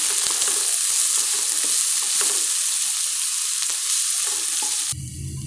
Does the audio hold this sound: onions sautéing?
yes